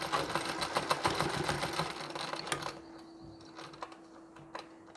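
A sewing machine runs fast stitching a saree blouse, a dense steady mechanical whir for about three seconds, then stops, leaving a faint hum with a few light clicks.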